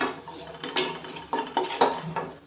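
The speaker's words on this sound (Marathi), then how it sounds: "थोडंसं बेसन पीठ सगळं व्यवस्थित मिक्स करून घेऊयात" Spinach and gram flour are stirred together in a pan. A utensil scrapes and clinks against the metal in quiet, irregular strokes, close up and with no talking.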